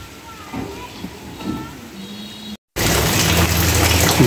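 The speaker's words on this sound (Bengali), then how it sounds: "বৃষ্টি শুরু হয়ে গেছে, নিম্নচাপের বৃষ্টি" Rain from a low-pressure system, first a faint patter behind a voice talking, then after a brief cut a loud, dense, steady rush of rainfall filling the rest.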